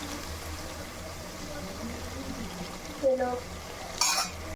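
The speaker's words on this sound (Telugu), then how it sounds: "ఆనియన్స్ వేసుకొని ఇలా వేపుకోవాలి" Onions with curry leaves stirred and frying in a pan for a cucumber curry, a steady low sizzle with scraping and a couple of utensil knocks near the end, with a brief spoken word over it.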